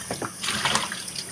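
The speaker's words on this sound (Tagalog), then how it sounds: "Pag ganito, pagtapos lang kumain, maghuhugas na kami." Tap water runs into a sink while dishes are washed after a meal at home, a close, continuous splashing gush with small clinks and shifts in the flow, and no talking.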